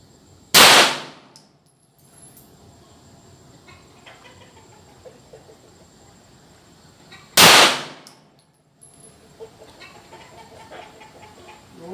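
Two loud, sharp gunshots from a Bul 1911 Target 9 mm pistol with a 6-inch barrel, spaced about seven seconds apart, each a sudden crack with a brief ringing tail over quiet outdoor background.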